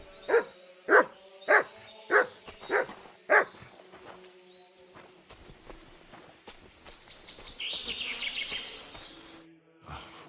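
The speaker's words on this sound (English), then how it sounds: "Good dog, Mutz." A dog in the medieval video game Kingdom Come: Deliverance II barks five times in a quick, evenly spaced series, fairly loud and close, followed by quieter game ambience and a faint hiss.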